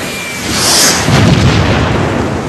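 A bomb going off in a home movie, one loud, rumbling boom swelling within about a second and then fading into a broad noisy roar, with no talking over it.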